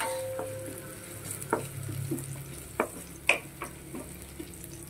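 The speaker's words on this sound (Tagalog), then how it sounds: "Yan, saute lang tayo. Saute lang guys." Onion sautéing in a pan for papaya and shrimp tinola: a soft steady sizzle with scattered clicks and scrapes of a spatula stirring, close and fairly quiet.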